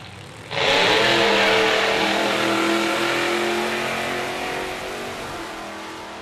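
A nitro funny car roars down the Palmyra Dragway on a full track drag strip pass, its engine bursting in loud and sustained after a brief quiet lead-in, then slowly fading as it pulls away.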